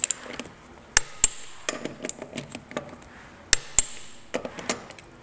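Metallic clicks and taps from a torque wrench tightening the front wheel nuts of a Triumph Spitfire, a few sharp clicks scattered among lighter knocks and ratchet ticks, close and clear, no talking.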